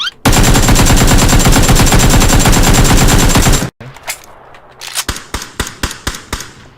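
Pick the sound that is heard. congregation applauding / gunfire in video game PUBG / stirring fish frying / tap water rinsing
gunfire in video game PUBG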